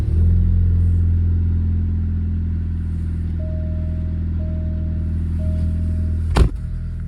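Alfa Romeo Giulia engine fitted with an aFe cold air intake idles steadily up close, a loud continuous low rumble with a brief sharp click near the end.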